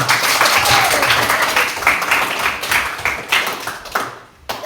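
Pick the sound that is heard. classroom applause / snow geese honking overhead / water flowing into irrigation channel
classroom applause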